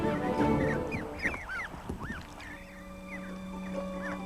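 Geese honking and calling repeatedly, several birds close by, with rising and falling calls over a steady low hum.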